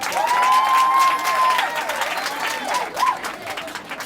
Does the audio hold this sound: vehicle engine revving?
no